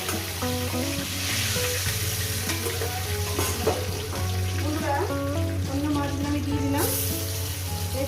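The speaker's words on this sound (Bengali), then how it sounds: "মাছ ভাজাগুলো আমার হয়ে গেছে আমি অন্য মাছগুলো দিয়ে দেবো" Fish pieces fry in hot oil in a pan, a loud continuous sizzle up close with bursts of spattering and scattered scrapes and clinks of a spatula.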